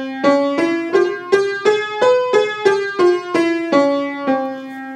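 A melodic instrument plays the Bhairav raga scale note by note, eleven evenly spaced, clear tones rising and then descending, loud and alone.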